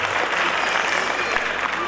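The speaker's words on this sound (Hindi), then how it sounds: "तो एक बार जोरदार तालियां मैं चाहता हूँ उन सब के लिए।" Audience applause at the grand finale of the Mrs. Rajasthan 2024 pageant, a brief, steady wash of clapping from a crowd with faint voices mixed in.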